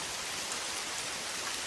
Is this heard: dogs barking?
no